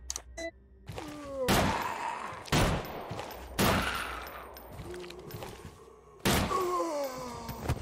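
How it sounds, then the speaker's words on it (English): Several heavy, separate shots from a video game, spaced about a second apart, each followed by a ringing, descending tail; loud and close with no talk. "I'm gonna shoot him."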